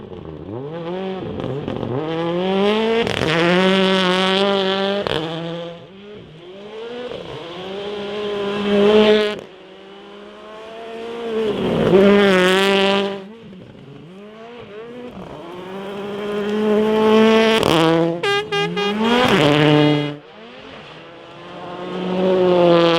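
Rally cars race on a gravel stage in Rokiškis, jumping and drifting, with engines revving hard in repeated rising sweeps, loud passes and gear changes, and brief dips between runs.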